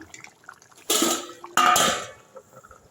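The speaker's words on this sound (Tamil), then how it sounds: "இப்போது அரிசி கொதிக்க ஆரம்பிச்சிருச்சு லைட்டாக ஒரு கிண்டு கிண்டிடுங்க" Rice boiling for vegetable biryani in a cooker gets two loud stirring scrapes against the metal pot, with faint bubbling in between.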